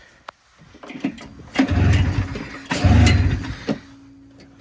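A BRP snowmobile engine cranks over in a shop, catching in two loud surging bursts that sputter and fade between pulls, heard up close with no talking.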